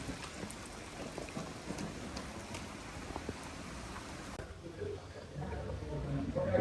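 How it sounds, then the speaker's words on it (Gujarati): Steady rain patters down continuously, a dense hiss of drops on surfaces, with faint voices now and then in the background. "વરસાદ સવારનો ચાલુ ને ચાલુ છે"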